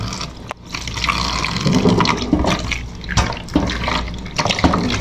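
Raw beef pieces with bits of fat being rinsed under running water, a loud steady gush with intermittent splashes and handling knocks, no talk.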